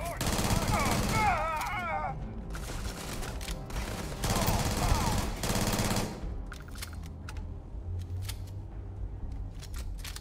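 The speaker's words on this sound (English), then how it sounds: "This little SMG is a workhorse for these lower level missions. These enemies get shredded." Submachine gun fire in the sci-fi shooter Starfield: several rapid bursts of automatic shots with brief pauses between them, loud and close, mixed with game sound effects.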